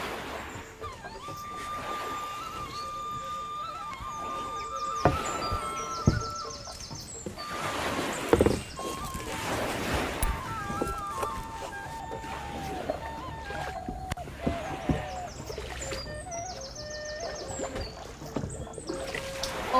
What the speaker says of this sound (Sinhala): ඒ නිසා කොහොම හරි ඔරුව පදින්න